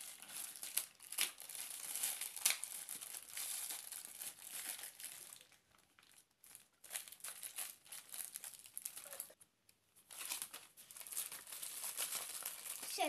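A taped AliExpress parcel is torn open with quiet, close crinkling and ripping of plastic and tape, coming in irregular bursts broken by short pauses.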